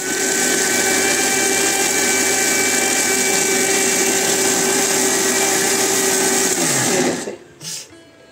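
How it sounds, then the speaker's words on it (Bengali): A kitchen mixer grinder running continuously, grinding soaked lentils with green chilies into a coarse batter, loud and steady whirring whine that cuts off near the end with a short tail. "তো বন্ধুরা দেখো ডাল সম্পূর্ণ বাটা হয়ে গেছে।"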